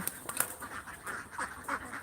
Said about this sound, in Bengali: এগুলো ডিমের হাঁস দেখতে পাচ্ছেন